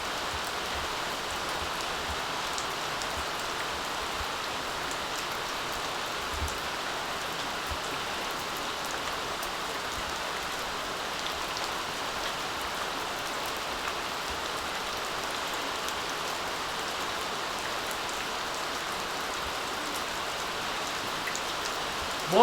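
Steady rain at the start of the monsoon falls evenly and continuously, a dense hiss of drops on surfaces with no voices over it.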